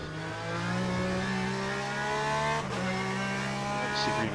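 GTE race cars lap Circuit of the Americas in Le Mans Ultimate, a loud sustained engine drone with steady revving harmonics and a brief dip as a gear change cuts through, without talk.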